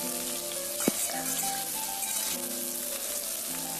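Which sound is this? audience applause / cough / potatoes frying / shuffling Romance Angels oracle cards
potatoes frying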